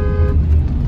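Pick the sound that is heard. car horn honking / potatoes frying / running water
car horn honking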